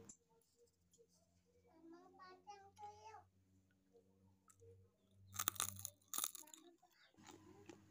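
Someone chews crispy fried fish with a loud crackling crunch in a few quick bites, after quieter mouth sounds and some soft child babble nearby.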